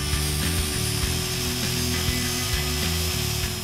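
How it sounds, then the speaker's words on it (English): Drill bores a hole through a 1967-1968 Ford Mustang rocker panel molding, a steady close motor whine with shifting pitch and rattling, running continuously with no voices. "then drill a hole for the stud to pass through"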